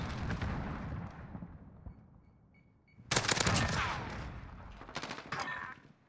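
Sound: gunfire in Modern Warfare video game

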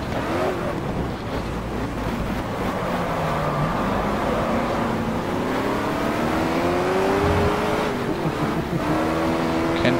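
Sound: TVR Griffith 400 race car engine in video game GT Legends

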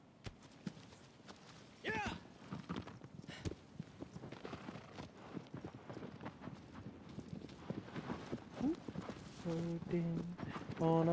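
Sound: horse galloping in the video game Shadow of the Colossus

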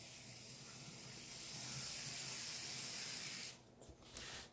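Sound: gears of SD40T-2 model locomotive tunnel motor drive running

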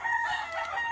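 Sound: rooster crowing at a gamecock pen

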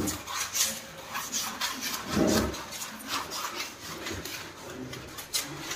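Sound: scrubbing a toilet with a brush after adding Harpic

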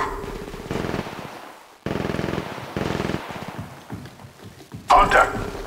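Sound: gunfire in the video game Apex Legends Mobile

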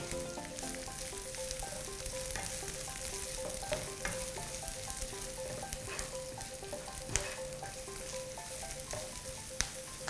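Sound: stir-frying chili peppers in a pan

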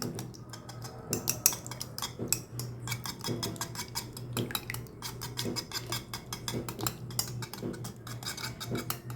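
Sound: beating cracked eggs with salt in a bowl

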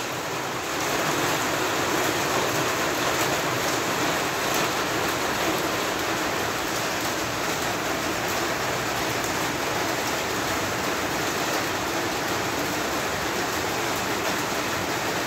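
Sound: heavy rain pouring on a shed roof

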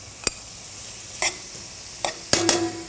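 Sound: shrimp and par-cooked arborio rice sautéing in a pan

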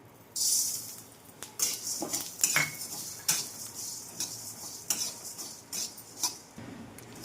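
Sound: dry roasting coriander seeds in pan over medium gas

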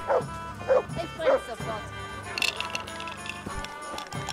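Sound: dog barking in video game Kingdom Come Deliverance

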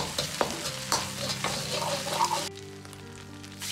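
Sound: stir-frying bean paste and sweet bean sauce in a wok

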